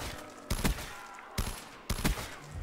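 Gunfire from a Black Ops 3 custom zombies map set on an island: three loud, sharp bursts of shots ring out at close range, separated by short stretches of quieter game ambience.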